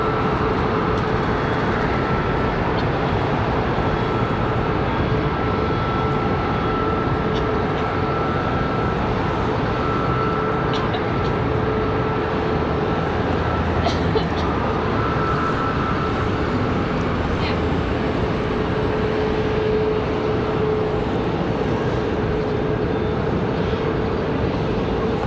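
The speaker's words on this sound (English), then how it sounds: "737 off for departure" A Boeing 737 jet takes off from Charlotte Douglas airport as a steady distant engine roar with a faint sustained whine that persists throughout, with a low hum of background noise.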